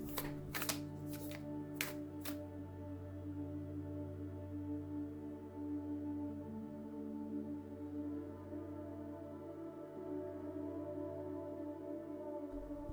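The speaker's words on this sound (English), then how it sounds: "I'm going to pull some oracle cards to get more messages about this connection." A deck of oracle cards is shuffled in a few quick, crisp riffling bursts at the start, followed by a long, quiet stretch of low background hum.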